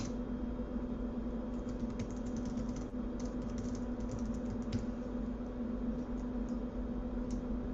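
Flat-key computer keyboard being typed on while coding, a run of light quick clicks in irregular bursts over a steady low electrical hum, fairly faint and with no speech.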